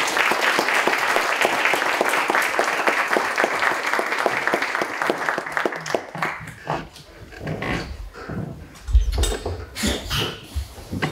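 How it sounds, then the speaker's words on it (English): Audience at a university lecture applauding to welcome the speaker, a dense burst of clapping that thins out after about six seconds into scattered claps and room noise. "would like everyone to join me in an applause in welcoming the speaker"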